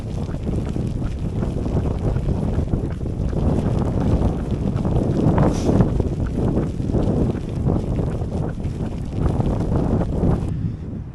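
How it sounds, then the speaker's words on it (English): Strong wind buffets the microphone on a wet outdoor run, a loud, steady roar that swells and eases slightly without pause. "It is windy"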